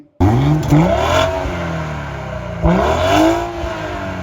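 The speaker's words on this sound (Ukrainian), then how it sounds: "Ну і друзі, запуск двигуна." A BMW X3 M40i's three-litre engine cranks and catches, then revs up and settles twice, the rising whine of acceleration loud and close.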